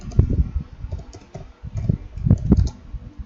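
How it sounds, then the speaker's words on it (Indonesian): Computer keyboard typing, a close run of quick irregular key clicks in bursts with a brief pause midway, no voices. "Kemudian kita ketikkan pilihan"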